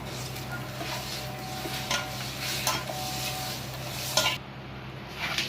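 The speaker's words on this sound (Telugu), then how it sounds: "ఫ్రైడ్ ఆనియన్స్ అండి, అల్లం పేస్ట్ అండి. ఈ మొత్తము ఒకసారి కలుపుకుందామండి." Spoon stirring chicken biryani masala with fried onions and ginger paste in a pot, steady scraping and rubbing strokes over a faint sizzle, close up with no voices.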